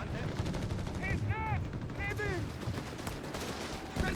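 Rapid gunfire bursts in Company of Heroes 3, crackling in dense repeated volleys under a caster's continuous commentary, with whistling sweeps mixed in.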